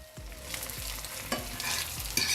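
An egg fries in butter in a pan with a steady close sizzle, broken by several low thuds and scrapes of a utensil against the pan, and no voices.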